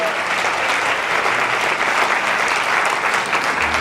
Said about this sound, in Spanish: Alguien le aplaude al Señor